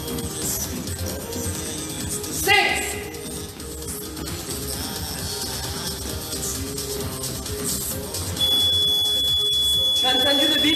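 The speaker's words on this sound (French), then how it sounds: "Ça, c'était le bip de la récup" A sustained electronic workout timer beep marking a recovery interval sounds near the end, clear and steady over a background of room noise and faint voices.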